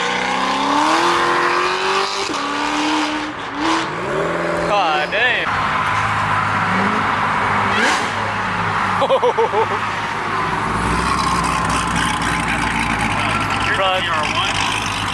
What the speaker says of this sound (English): the downshift on that one sounded wild